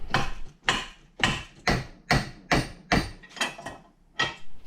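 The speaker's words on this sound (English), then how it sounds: "And then I just hit it with the old 3-pound sledge and busted that little piece" A 3-pound sledgehammer hammers a flathead screwdriver wedged against a stuck pinion on a bent boat prop shaft, about ten sharp metallic strikes in a steady, slightly uneven rhythm, close and loud with no talking.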